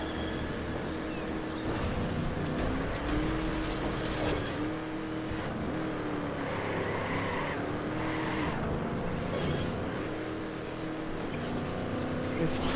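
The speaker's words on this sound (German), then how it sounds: "Drift hier wieder." A car in Trackmania Turbo drifts with sustained tire squeal over a continuous loud racing engine, the screech rising and falling throughout.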